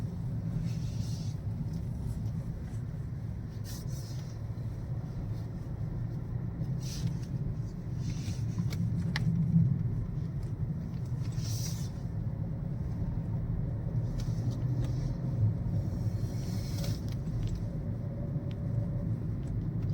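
Steady road rumble and engine hum from inside a car being driven on the road during a driving lesson, continuous and even, with faint occasional higher swishes from passing traffic.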